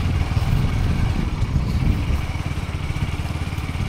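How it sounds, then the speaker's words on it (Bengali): A motorcycle carrying riders on a winter ride through the countryside, its engine a steady close low rumble with a pulsing throb throughout. "বাইক নিয়ে যাচ্ছি।"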